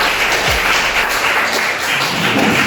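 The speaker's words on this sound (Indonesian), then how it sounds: "Beri aplaus untuk kalian." A classroom group claps together in a dense, loud burst of applause that holds steady without pause, close by and without speech.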